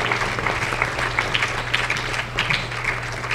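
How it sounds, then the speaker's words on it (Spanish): A church congregation gives a strong round of applause, many hands clapping steadily over a low sustained musical drone, with some louder individual claps near the front. "Aleluya, denle un fuerte aplauso al Señor."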